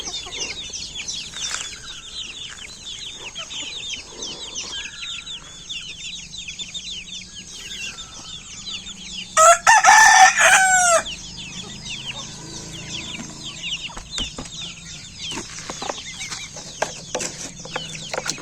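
Native country chickens on a farm cluck and chatter continuously at close range, with a loud rooster crow bursting out midway and scattered sharper calls afterward.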